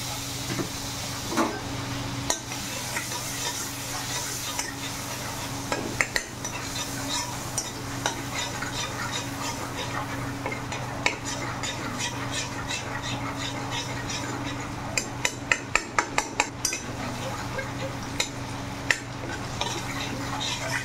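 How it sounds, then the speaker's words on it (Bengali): Butter added to a hot iron wok gives a steady soft sizzle and hiss, joined by scattered metal utensil scrapes and clinks against the pan, fairly quiet and close, with no spoken voice. "ওদের কড়াই গরম হয়ে গেছে, এখন বাটার দিয়ে দেবো।"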